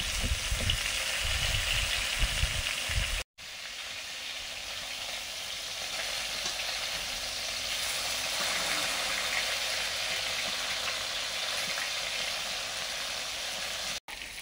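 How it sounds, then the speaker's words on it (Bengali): Rui fish rubbed with salt and turmeric frying in oil, giving a steady, loud broadband sizzle that runs nearly the whole time, with a brief dropout early on and low clatter at the start. "মাছ ভাজা চলছে"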